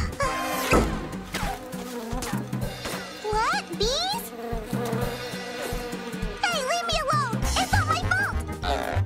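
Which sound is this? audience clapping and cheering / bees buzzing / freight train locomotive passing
bees buzzing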